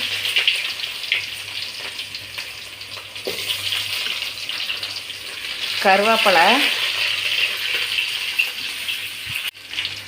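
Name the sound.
onions and curry leaves frying in a pan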